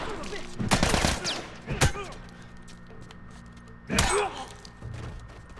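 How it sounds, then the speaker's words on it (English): Several sharp, loud gunshot bursts in The Last of Us, fired in quick clusters with pauses between, over low ambient game sound and a faint voice. "none of those shots were hitting"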